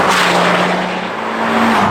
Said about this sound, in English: you get a lot of like turbo noise, and it's got a real sort of iconic like whooshing sound as it goes through